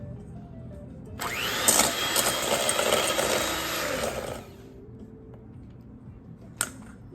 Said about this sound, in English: I'm using a hand mixer today.